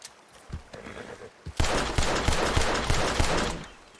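Rapid gunshots ring out in a Wild West roleplay game, a few scattered pops first and then a sustained, loud burst of overlapping shots before fading.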